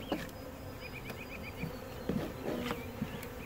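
Honey bees from a rescued swarm mill around a swarm trap frame set on the ground outdoors, giving a steady close buzz with faint whines of individual insects passing by and soft bumps mixed in.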